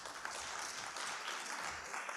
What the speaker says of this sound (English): And you can please give her a big round of applause.